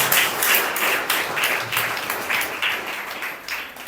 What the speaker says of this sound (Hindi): ताली बजाकर प्रभु का धन्यवाद करें।